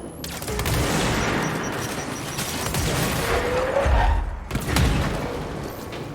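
Gunfire in the action game Control, with a sustained roar of shooting and a few heavy booming impacts near the end, loud and continuous throughout.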